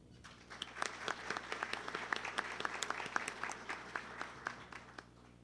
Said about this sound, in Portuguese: Eu gostaria de pedir uma salva de palmas para ele.